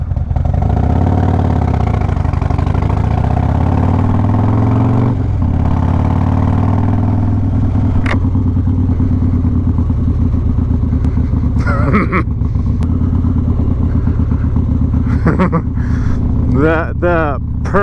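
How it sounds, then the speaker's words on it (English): A Harley-Davidson Road Glide fitted with an S&S 475 cam runs loud and close, its deep lumpy engine note rumbling continuously, with someone talking over it at times. "This cam, once the motor is warmed up, sounds amazing"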